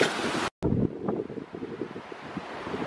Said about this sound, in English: still fairly windy